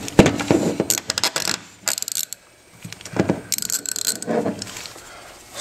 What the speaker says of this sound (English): It's a really nice ratchet though. I like this ratchet.